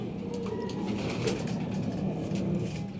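Racing pigeons arrive at a feeding spot in Bulacan, giving soft cooing and light wing flutters under a steady outdoor rumble, nearby and moderately loud, with no talking.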